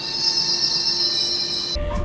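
A KLIA Transit airport train runs with a steady high whine and a constant rumble, ending in a brief low thump.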